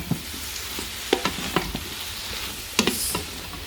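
Onions sautéing in an Instant Pot for caramelizing: a low steady sizzle with scattered clicks and scrapes of stirring, a few sharper clanks standing out, close and moderately loud with no talk.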